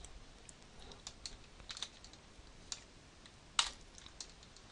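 Quick, light keystrokes on a computer keyboard while an HTML attribute is typed. The soft, irregular clicks are close by, with one sharper key strike near the end.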